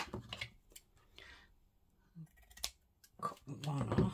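Paper for a junk journal is cut with scissors in a few short, quiet snips among rustling and handling sounds, with speech partly over it.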